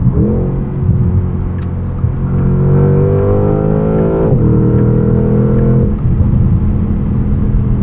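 A 2025 Porsche Panamera GTS in Sport Plus mode with its exhaust valve open gives a loud, steady engine drone and exhaust note from inside the car, rising and falling in pitch through gear changes with a brief dip around the middle.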